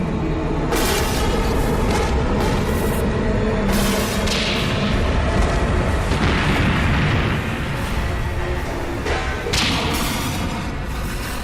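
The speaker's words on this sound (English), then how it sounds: "Radiation equal to 500 atomic bombs is about to explode." A nuclear power plant explosion rolls out as a continuous, loud, roaring rumble with deep booms and sharp cracking bursts throughout.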